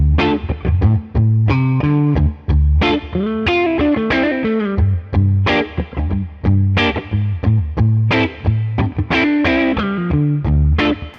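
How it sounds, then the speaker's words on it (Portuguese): Electric guitar played through a vintage Tone King amplifier, giving a warm, slightly crunchy tone with an effects shimmer as choppy chords and single notes jump in irregular bursts and short gaps, and no talking. "voltando aqui agora pro som do Tone King, né, que é o som do amplificador mais vintage"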